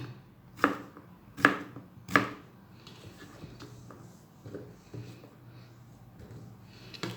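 A knife chops food on a board: three sharp, evenly spaced cuts, then quieter scraping and a few softer taps.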